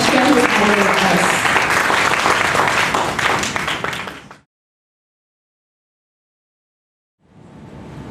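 An audience at a university entrepreneur event claps loudly for a guest speaker, a dense burst of applause mixed with some voices that fades and cuts to silence, then faint room sound returns.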